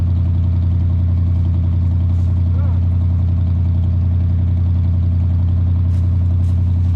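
A 1965 Ford Galaxie 500 hardtop V8 idles loudly and steadily up close, a deep even rumble that does not sound like it is missing, with someone talking over it.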